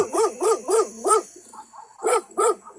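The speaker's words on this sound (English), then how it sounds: "Wow, Thomas, get a hold of your dogs" Dogs bark close by in a quick run of four sharp barks, a short pause, then two more.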